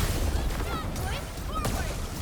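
Gunfire and booming blasts from the video game Arknights Endfield, heard as a dense, loud continuous barrage with low rumbling impacts, mixed with game voices and effects.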